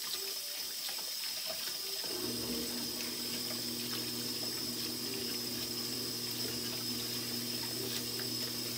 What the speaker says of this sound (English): Now I'm going to add warm water to the flour so I can make my dough.